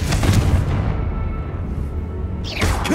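A Confringo fire spell blast from Hogwarts Legacy, a heavy booming burst at the start that rumbles down, then another explosive hit closing out the short moment.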